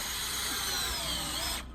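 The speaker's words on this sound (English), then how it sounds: "is screwing in the railings" A power drill drives screws into railings on an Amish-built log cabin, one steady high-pitched whir lasting over a second before cutting off abruptly, close and alone.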